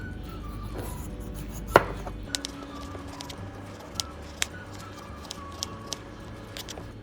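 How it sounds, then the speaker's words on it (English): A knife cuts the skin off a pumpkin on a board with a few sharp, separate knocks and slicing taps spaced out over a quiet background, one louder strike early on. "you just take your knife and cut off the skin as how I'm doing it right now"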